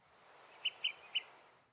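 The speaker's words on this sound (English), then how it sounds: "we can hear the piping calls of a flycatcher across the slope" Three short, clear piping whistles of an olive-sided flycatcher spaced about half a second apart, carrying across a quiet late-summer slope by a burned aspen stand over soft background hiss.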